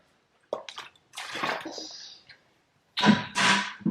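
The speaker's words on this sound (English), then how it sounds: "So, Aria, you're wasting my water." Water sprayed from a bottle during hair styling, three separate hissing bursts with silent gaps between, close and moderately loud.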